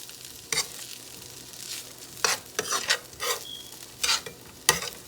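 Broccoli chicken for a rice bowl sizzling in a skillet, with several bursts of stirring and scraping over a quiet steady fry, close by and with no voices.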